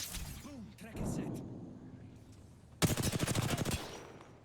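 A rapid machine-gun burst in a battle royale game rattles out in quick, evenly spaced shots near the end. Before it come whooshing effects and a voice speaking.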